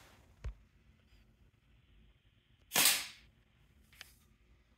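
A dart fired from a blowgun strikes a metal can of beans: a soft puff, then a loud, sharp metallic impact ringing briefly, followed later by a faint tick, with quiet outdoor background.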